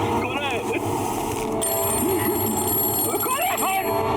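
A telephone rings in short repeated bursts at a moderate level beneath anxious talk, amid tense background sound in a Hindi horror drama episode.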